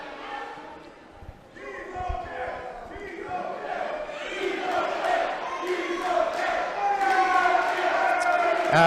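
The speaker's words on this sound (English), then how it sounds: "the crowd is chanting he's okay" Indie wrestling crowd chanting in unison, a swelling rhythmic call of many voices that grows louder over several seconds, with crowd noise around it and a commentator talking.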